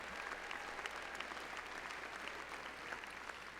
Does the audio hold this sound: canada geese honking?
no